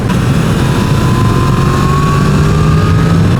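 Yamaha MT-10 SP motorcycle engine running steadily and loud throughout, a continuous dense drone with a slowly rising tone as it pulls on a road ride.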